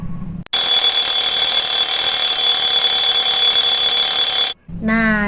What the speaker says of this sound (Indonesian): contoh yang pertama itu ialah jam weker